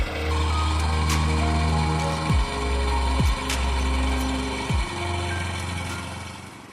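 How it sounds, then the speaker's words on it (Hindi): A tractor engine works a field at the start of maize season in the Degha valley, droning steadily and close, its pitch dropping briefly three times as the load or revs change, with no talking. "एक बार फिर ट्रैक्टर की आवाज"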